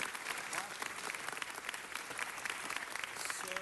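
A city council meeting chamber fills with sustained audience applause honoring Sylmar High School champions, dense continuous clapping with faint voices mixed in.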